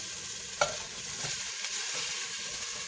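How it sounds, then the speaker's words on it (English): Chopped onions sautéing in a pan, a steady close hiss of frying with a few soft scrapes of stirring, alone without talk. "You want to just saute this onion."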